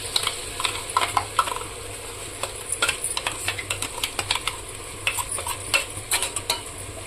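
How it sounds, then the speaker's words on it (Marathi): Tomatoes for biryani cook soft in a pan with a low steady sizzle while a spoon stirs and scrapes, giving quick irregular clinks and taps close by. "टमाटर नरम होईपर्यंत शिजवून घेऊ"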